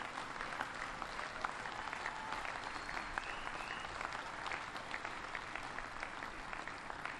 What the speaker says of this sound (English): Would you mind giving all the Hoosiers who are here a big, big round of applause, especially those 2 on the crew?